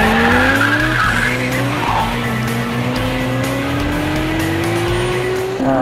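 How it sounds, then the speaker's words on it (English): Corvette ZR1 tires squeal loud and continuous while the car fishtails sideways around a corner, a rising engine drone running beneath the screech for several seconds. "I was able to get really sideways around the edge there, around the corner, fishtailing all the way around"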